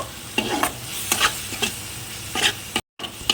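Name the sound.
ground spices being sautéed in oil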